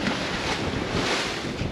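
Sea waves slosh and rush around a Leopard 45 sailing catamaran in stormy Bahamian waters. The water noise is steady and broadband, heavily mixed with wind roaring across the microphone.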